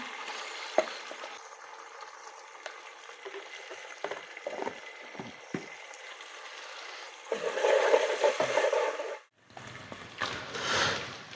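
Onions and ginger fry in a pan as they are stirred, giving a soft sizzle with scattered spoon scrapes that grows into a louder, denser frying burst near the end.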